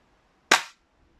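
A ZGS330 slide-action toy air gun fires a single plastic pellet: one sharp, close snap that fades quickly, followed by near silence.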